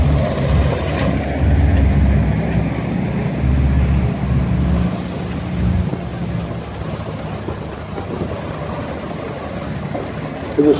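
A Scammell Crusader military truck drives past at a vintage vehicle rally, its heavy diesel engine a loud, steady low rumble that slowly fades as it moves away; no one speaks.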